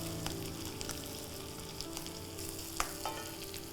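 Small onions sizzle and crackle steadily in a hot pan for kadala curry, a close, dense frying hiss with occasional sharper pops and no voices.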